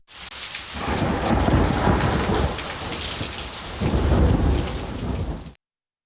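Heavy rain pours steadily while thunder rolls in two long, loud swells, then cuts off abruptly, in the 1994 Windows game Lassie: Interactive Moviebook.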